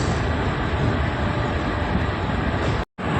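A Mangaluru Central–Subramanya Road passenger train roars steadily with loud, broad rumble and rushing noise, close by and unbroken apart from a momentary cut near the end.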